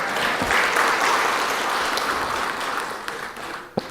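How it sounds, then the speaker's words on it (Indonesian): Applause from an audience at an Indonesian government ceremony with President Jokowi, a sustained wash of many hands clapping that thins toward the end and ends with a sharp louder clap. "Tepuk tangan dulu lah"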